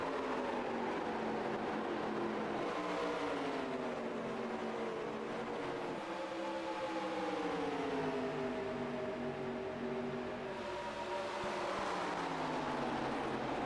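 Several race cars roar down the back straightaway at Atlanta in a racing game, a steady blended engine drone with pitches sliding up and down as cars shift and pass, fairly faint and continuous.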